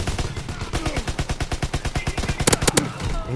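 Rapid automatic gunfire in the Call of Duty video game, a fast, loud, evenly spaced string of shots with a few sharper bursts near the end and a voice talking over it.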